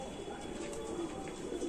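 Soft, low cooing of a Rampuri pigeon, a continuous murmuring coo that is fairly faint and close against a steady background hum.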